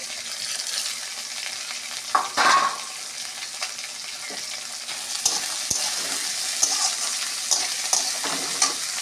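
Bitter gourd and potato fry in a pan with green chilli paste, a continuous moderate sizzle broken by scraping stirs and a few sharper spatula knocks, close by and without voices.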